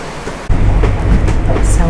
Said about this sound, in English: So we just got the rain